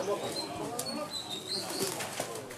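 Captive wild birds caught in Thai forests, held in an illegal market storage warehouse in Thailand, coo, chirp and flutter in a steady busy chorus, with a voice speaking over them.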